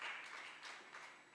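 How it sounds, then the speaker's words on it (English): Congregation at a church service clapping hands together, a faint, dense wash of many claps swelling in soft waves with no voices over it. "Can you clap your hands once more for Jesus?"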